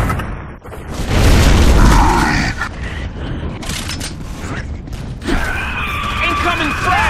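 Grenade blasts in a multiplayer shooter, a heavy rumbling boom swelling and fading over a couple of seconds, followed by mechanical creaks and clatter, with voices talking faintly underneath.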